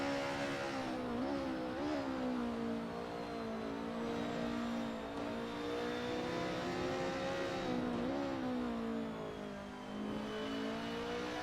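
A 1990s DTM touring race car in a sim racing game lapping the Red Bull Ring, its engine a steady, loud droning whine that rises and falls with gear changes, heard alone without talk.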